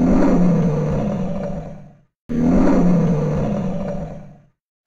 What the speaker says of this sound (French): C'est un lion.